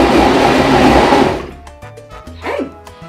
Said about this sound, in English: Just barely blend it so that it stays a little chunky so you get some variety in your salsa.